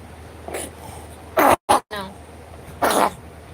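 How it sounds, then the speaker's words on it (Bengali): A child coughs in two short bursts, then coughs once more a moment later, close and loud against a quiet room. "কাশি হয়েছে তোমার"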